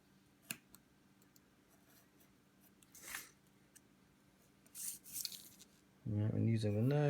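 A craft knife cuts white Bristol board in a few short, separate scraping strokes with quiet pauses between them, and a person starts talking at the end.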